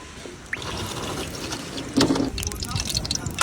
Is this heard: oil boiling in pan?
yes